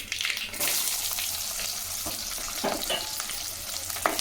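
Small onions sautéed in hot oil with mustard seeds and dried chillies for hotel-style tiffin sambar: close, loud sizzling and frying hiss with scattered spoon scrapes and stirring clatter throughout.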